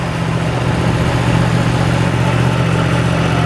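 A Yamaha MT/FZ-10 motorcycle engine holds a steady, loud, close drone on a ride near Moffat Beach, its low throb continuous with no talking.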